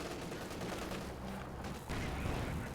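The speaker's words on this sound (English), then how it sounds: "T-34s coming in looking for blood, firing in on the Panzer IV" T-34 tanks firing on a Panzer IV in a strategy video game: dense, continuous booming cannon and gunfire rumble, loud and close, with a heavier burst toward the end.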